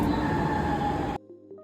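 Chennai metro train running from Koyambedu toward the airport, a steady loud interior rumble with rail hum that cuts off abruptly, leaving a quiet carriage.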